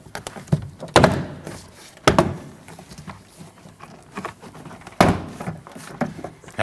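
Plastic clips popping loose as a front door panel is pried away from the door of a 2003-2008 Subaru Forester, giving a few sharp, close thunks spaced a second or more apart over quiet background.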